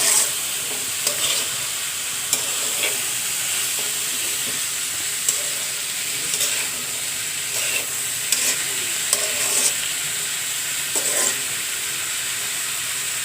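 Mixed vegetables with okra and tomato sauté in a pan, giving a loud, steady hiss of frying up close, with soft intermittent stirring taps and scrapes throughout and no voices.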